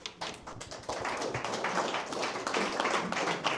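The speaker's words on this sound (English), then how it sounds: "A big round of applause for Eriks" Applause breaks out from the audience at a DevOps and AI meetup in Latvia, a dense, steady clatter of many hands clapping that fills the room for several seconds, with a faint voice buried underneath.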